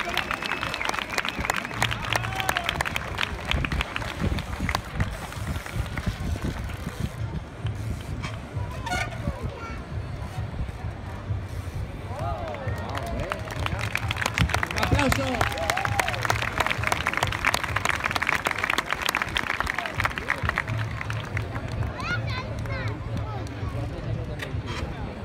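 Sustained crowd applause at a BMX Bandits show in Zaragoza, dense clapping and cheering lasting throughout with horn-like toots and an announcer's voice over it, swelling louder midway.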